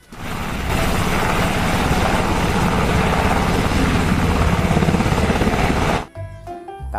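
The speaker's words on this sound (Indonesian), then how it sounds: "Ada helikopter. Helikopter militer teman-teman." A toy military helicopter gives off a steady, loud whirring rotor drone that starts abruptly, holds for about five seconds and then cuts off sharply.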